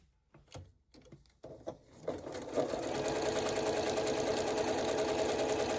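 A sewing machine stitches a foundation paper-pieced quilt block, starting with a few scattered clicks and handling noises, then running into a continuous, close, steady mechanical whir that holds to the end.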